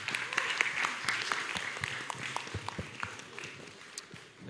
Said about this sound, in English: I give applause to Professor